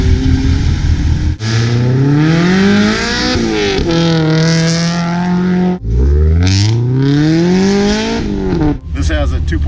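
A Miata race car with a heavily built 2.5-liter engine, high-compression pistons and big camshafts revs hard and close, rising through several loud sweeping pulls with brief lifts between them.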